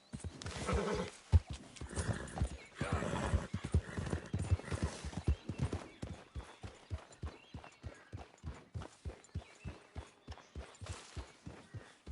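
A horse in the video game Red Dead Redemption 2 snorts and whinnies at first, then its hooves clip-clop in a steady, even rhythm that grows regular and distinct, close by and without other sounds over it.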